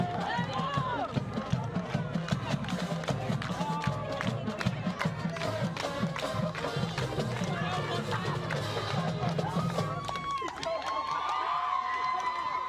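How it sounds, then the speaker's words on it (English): A youth football game crowd cheers and shouts continuously, a dense roar of voices with excited yells, loud and sustained, tapering near the end as other voices and sounds take over. "The crowd cheering him on as he's praised down the sideline."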